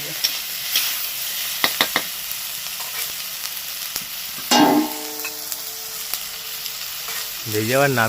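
Spices, tomato and onion fry in a pan for restaurant-style chicken kosha, giving a continuous close sizzle with a few brief clicks and tonal clatters from the pan.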